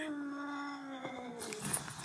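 An aggressive cat yowls in a long, steady caterwaul that breaks into a sharp, breathy hiss near the end, close and loud with no speech.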